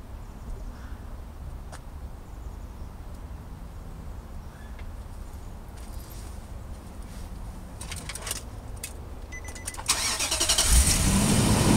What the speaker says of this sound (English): Turning the car on